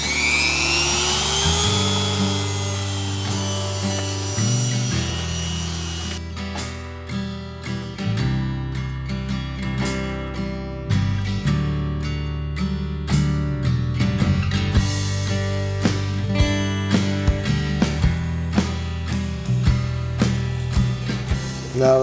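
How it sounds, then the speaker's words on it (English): Dremel rotary tool fitted with a small burr grinding a broken side cover mounting tab, a high whine that rises as it spins up, then repeated buzzing bursts and bites against the part, close and loud. "Got my Dremel tool out,"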